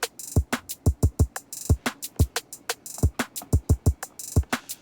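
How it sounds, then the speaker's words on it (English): Trap drum beat built around a rim shot, with crisp clicky hits landing in a fast, steady pattern alongside deep kick-like thumps, loud and close with no talking. "It's a rim shot."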